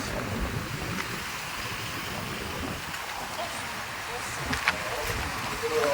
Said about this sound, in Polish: Ale wiatr, straszny, nie naprawdę.